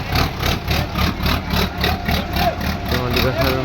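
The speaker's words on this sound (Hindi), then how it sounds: "अपने new Holland 3630 special edition 12+3 UG है भाई ये ट्रैक्टर है" A New Holland 3630 Special Edition tractor engine idles close by with a pulsing, rhythmic diesel throb that holds steady throughout, under a voice.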